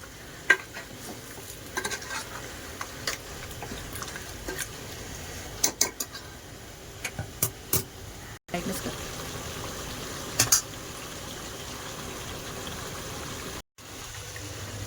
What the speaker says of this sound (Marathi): आपण असंच 2-3 मिनिटं आधी परतून घेऊया